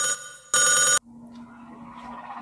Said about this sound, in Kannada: ನಿಮ್ಮ ಮಂಜಾಕ ಫೋನ್ ಹಚ್ಚಿ